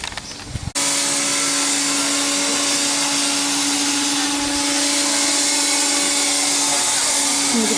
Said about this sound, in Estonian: Mingid ehitustööd käivad jälle.